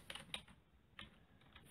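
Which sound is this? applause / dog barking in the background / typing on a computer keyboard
typing on a computer keyboard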